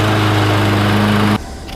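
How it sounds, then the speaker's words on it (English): A Craftsman lawn mower engine runs at a steady high idle with a loud buzzing drone, then cuts off abruptly near the end, leaving a quiet background. "I'm going to turn on the engine for a minute, and I'm going to heat up the oil so it will flow easily."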